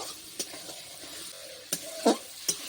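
Prawns lightly frying in a pan for a jackfruit-prawn dish, a soft continuous sizzle broken by a handful of brief spatula scrapes and clinks against the pan, with no one speaking.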